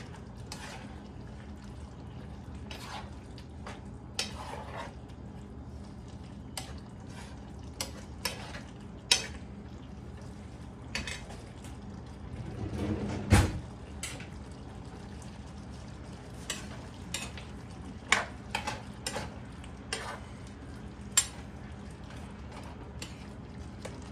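Pakbet with coconut milk and pepper is stirred in a pan, with scattered clicks and scrapes of a utensil against the metal over a quiet background simmer.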